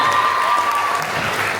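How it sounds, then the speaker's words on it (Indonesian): Audience applause for youth choir singers at a provincial Pesparawi church choral festival, a steady dense wash of clapping throughout, with a faint voice briefly audible over it. "Ya, tepuk tangan dong buat teman-teman."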